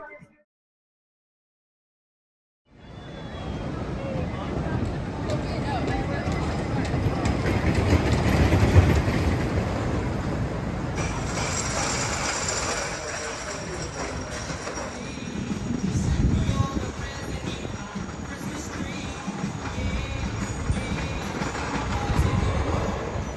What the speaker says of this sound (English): I love old wooden roller coasters.